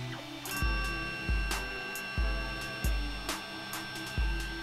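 A 3D printer printing RC car parts moves its motors in a rhythmic run of whirring strokes, each one ending in a low thump, with steady tonal stepper whine in between, close and fairly loud, and no talking.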